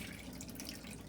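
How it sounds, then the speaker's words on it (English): Water poured out of a cooking pot after cold-shocking eggs, a steady running splash close by, with no talking. "Just going to dump out the water that we just filled the pot with again."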